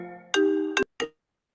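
A phone ringtone from an incoming call plays as a bright, loud tonal melody, then breaks off and gives one short final burst before going silent.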